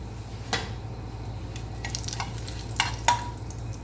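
Whole spices, cumin and bay leaf frying in oil inside a pressure cooker, a soft steady sizzle with a low hum beneath, broken by a few sharp scrapes and clinks of a stirring spoon.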